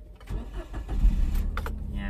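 Toyota Rush engine starting after the steering wheel is unlocked: a brief cranking burst settling toward idle, with a person talking nearby.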